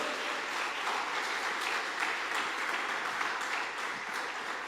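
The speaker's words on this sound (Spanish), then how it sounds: "Den un fuerte aplauso a Jesucristo." Steady applause from a church congregation during a pastor's sermon, a dense even wash of many hands clapping together that holds for several seconds with no talk over it.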